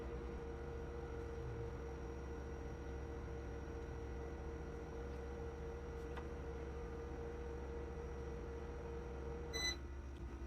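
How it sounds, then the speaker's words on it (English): REFOX RM26 UV curing box with its fans humming faintly and steadily in a quiet room, then a short electronic beep near the end. "at this point I'm hearing the fans running in the back"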